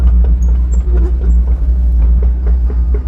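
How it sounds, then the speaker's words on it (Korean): A 2017 Doosan DX55-5K mini excavator travels slowly, its engine giving a steady low drone with faint repeated track clatter and small knocks throughout, fairly close and loud. "장비를 띄워놓고 주행도 한번 해보겠습니다 현재 저속 주행"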